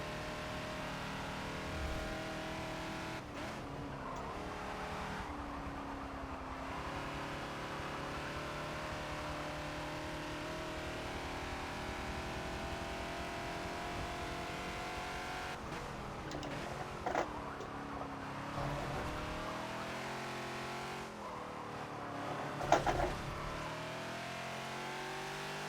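A Ford Falcon XB races around Sebring in the Forza racing game, its engine roaring steadily and climbing through the revs, with sharp gear-change breaks and a brief tire squeal near the end. No voices are heard.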